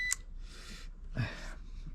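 A motorcycle turn-signal indicator beeper gives a short sharp beep, followed by faint ticking bursts over a quiet background hum.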